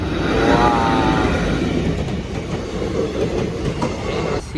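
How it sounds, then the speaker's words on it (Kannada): A train rumbles past close by, loud and steady, with rhythmic clickety-clack of wheels over the rails and a brief squeal near the end. "ಇಲ್ಲಿ ಟ್ರೈನ್ ಬರುತ್ತೆ ಈಗ ಬಂತು ಬಂತು"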